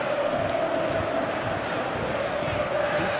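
Stadium crowd noise from a PS4 football video game forms a steady, dense roar that fills the whole stretch without letting up.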